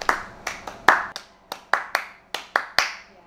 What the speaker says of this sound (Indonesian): Contohnya menirukan ritme melalui tepukan misal.